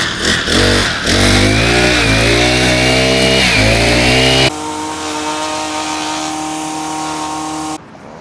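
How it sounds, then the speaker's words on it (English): A string trimmer engine whines loudly nearby in the country town of Imbil, its pitch surging up and down, then settling into a steadier, more distant drone. "The whipper-snippering has to be done, doesn't it?"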